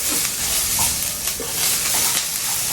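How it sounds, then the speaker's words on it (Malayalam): Grated coconut roasting in a pan gives a steady, loud dry sizzle and crackle, with faint scraping as it is stirred, throughout and without talk. "ഇനി ഇത് കരിയാണ്ട് തേങ്ങ വറുത്തെടുക്കണം നമുക്ക്."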